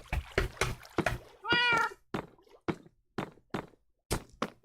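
Cats meow repeatedly inside the video game Minecraft, a series of short, clear, close meows separated by brief pauses, with one longer drawn-out cry in the middle and soft knocks between calls.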